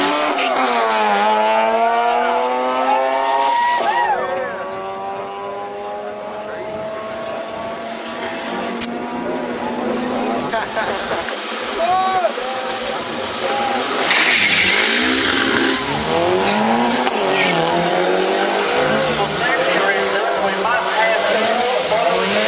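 Purple Nissan Pulsar race car making a drag strip run at a rotary and four-cylinder nationals event, engine revving hard through rising, falling gear pulls, loud and sustained with crowd and commentary voices underneath.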